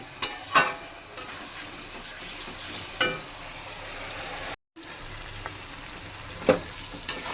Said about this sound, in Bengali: এখন আমি সমস্ত মশলার সঙ্গে আলুটাকে ভালো করে কষিয়ে নেব